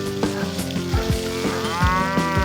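Cattle on a Kerala farm that also keeps goats, hens, ducks and fish, lowing in several long, loud moos one after another, close by, with no talk.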